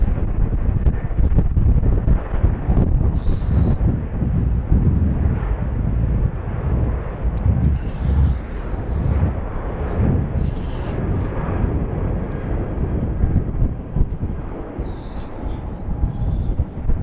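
Southwest airliner departing from BWI airport, a broad jet roar with wind buffeting the microphone, sustained and fairly loud for the whole stretch, rising and falling slightly as it climbs away.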